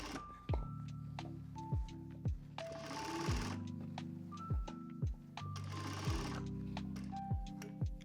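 Sewing machine top stitching a quilt coat, running in steady whirring bursts with sharp thunks as stitching stops and starts, close and clear with no talk.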